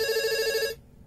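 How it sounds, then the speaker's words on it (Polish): A telephone rings in one short bright electronic burst that cuts off abruptly, loud and close, with no one talking over it. "Telefon."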